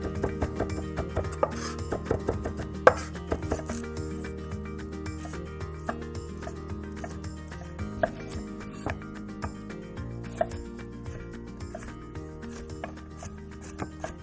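Garlic being chopped with a knife on a board while prepping a hash, a steady run of soft, close rubbing and tapping cuts with occasional sharper knocks, no voices.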